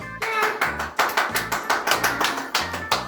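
A small group claps for the winner of a children's apple-eating contest, a quick run of about a dozen sharp, evenly spaced claps played close and loud.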